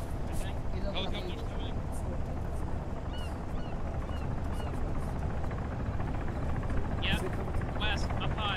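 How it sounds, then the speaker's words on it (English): Helicopter approaching during an amphibious military exercise, a steady loud rotor thrum that persists throughout, with radio chatter and voices over it. "Helicopter in the air. That's a helo coming."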